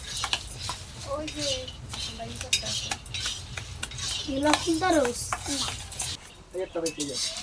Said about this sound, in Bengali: বাদামটা বারবারে খন্তি দিয়ে খন্তি দিয়ে নাড়লে সুবিধা হয়